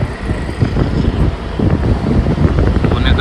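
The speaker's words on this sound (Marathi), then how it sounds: "थंडगार एकदम वारा." Cold wind buffeting during a bus ride on the Mumbai–Bangalore highway, a loud gusty rush over the rumble of the moving vehicle, with no talking.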